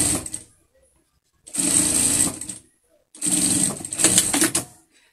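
A sewing machine topstitches elastic onto a fabric face mask in two sustained bursts of close, steady whirring, with a short run at the start and pauses between.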